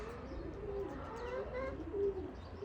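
A male pigeon coos in soft, repeated low throaty phrases over steady background hiss, fairly faint and close, without talking.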